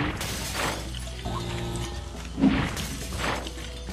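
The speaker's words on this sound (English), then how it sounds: "let's break all the glass" Glass breaking in Quantum Conundrum: a few short shattering crashes spread over a few seconds, one sharper impact among them, set over a steady game background hum with no talk.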